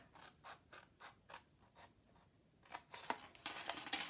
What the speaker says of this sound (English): I want to cut a wedge out of this side